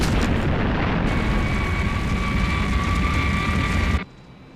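Missiles launch and blast toward a Thunderbird rescue aircraft in a TV show, with a loud, continuous roaring rumble and engine whine that cuts off sharply near the end.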